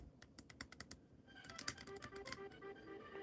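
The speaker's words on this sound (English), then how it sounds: "I am Etch A Sketching Fizzarolli." Etch A Sketch knobs turned while drawing, a string of faint dry clicks and ticks, first sparse and evenly spaced, then denser and scratchier.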